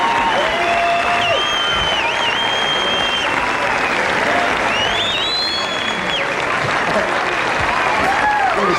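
Steady audience applause at a 1970s Jerry Lewis telethon, a dense continuous wash of clapping with some cheering and whistles over it, full and sustained throughout.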